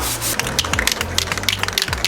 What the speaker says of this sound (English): we're sanding it all down with 400 grit till you can't feel any texture